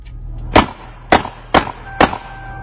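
Four gunshots crack out one by one during a fight on a rapper's Instagram live stream, each a sharp, loud bang spaced about half a second apart over a quiet, hissy background.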